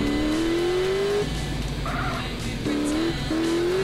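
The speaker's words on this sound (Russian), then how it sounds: "Тебе дают мотоцикл." A motorcycle engine in the video game GTA San Andreas revs in rising bursts, its pitch climbing, then cutting off and picking up again, with tire skids and other game traffic sounds mixed in.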